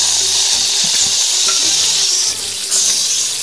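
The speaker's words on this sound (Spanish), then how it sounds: "Ahí vamos a escuchar lo que se está friendo." Torrejas fry in a hot pan, a dense close crackling sizzle that runs steadily throughout, with a few light scraping and stirring clatters of a utensil against the pan.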